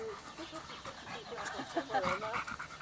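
Dogs pant and whine faintly amid low background noise, with scattered yelps and a brief higher cry toward the end; a person murmurs softly in the background.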